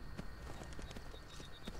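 Horse hooves clip-clopping along a road in the video game Vagrant, a steady, moderately paced run of soft hoof taps set against a faint, continuous ambient background.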